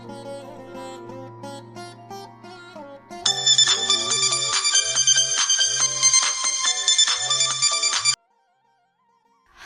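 A mobile phone rings with a melodic ringtone, first a softer tune, then a louder, fuller burst with a repeating pulsing beat that cuts off abruptly, leaving near silence.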